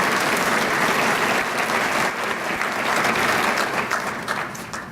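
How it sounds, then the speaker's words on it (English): Applause from a community luncheon crowd for event sponsors fills the room, a continuous wash of many hands clapping that tapers slightly toward the end. "Let's give them a round of applause as well."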